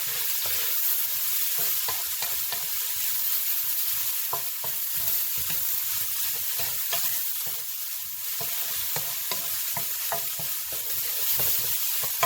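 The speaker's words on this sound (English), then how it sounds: "I'm sauteing eggplant and bittermelon together with a stir fry" Eggplant and bittermelon sauteing in oil for a stir fry with bacon, a steady loud sizzle broken by frequent scraping clicks of a utensil stirring the pan, with no talking.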